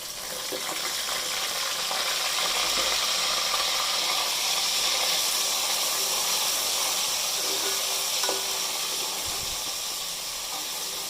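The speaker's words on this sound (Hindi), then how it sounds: "अभी प्याज ब्राउन हो चुकी है, अब हम इसमें अदरक लहसुन का पेस्ट डाल रहे हैं।" Ginger garlic paste hits browned onions in a pan while cooking beef keema, giving a steady, loud, close sizzle with a bright frying hiss that holds for the whole stretch.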